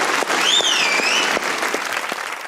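A studio audience on the Pakistani comedy talk show Hasna Mana Hai bursts into loud, sustained clapping that fills the whole stretch, with a brief whistle rising and falling over it early on.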